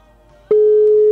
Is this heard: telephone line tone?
yes